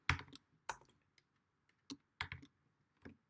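Keyboard typing at a computer in a quiet room, several short bursts of clicking keystrokes separated by pauses, close and moderately loud, with no voices.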